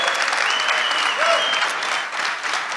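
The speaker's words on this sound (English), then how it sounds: "I will ask for a big applause for Scott" A crowd gives Scott Page of Pink Floyd a big, dense round of applause, a continuous wash of many hands clapping at even volume throughout, with a faint tonal whine drifting through the middle.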